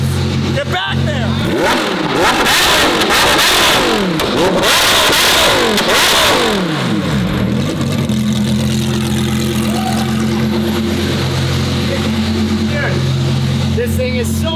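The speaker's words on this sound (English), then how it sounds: "This thing is so much louder than the other car." A Lamborghini Evo 2 race car engine revs hard, rising and falling in loud sweeping bursts while flames shoot out, then settles into a harsh, droning idle. The sound is very close and dominates throughout, and people talk over it.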